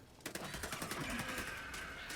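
A minigun in Helldivers 2 winds up before firing, opening with a sharp start and then a rapid stuttering rattle with a rising whine, fairly quiet and heard alone.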